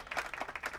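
Short burst of students clapping in a classroom, a quick patter of several hands at moderate volume, brief and slightly uneven.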